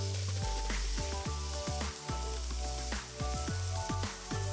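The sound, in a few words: chopped tomatoes frying with ginger garlic paste for pav bhaji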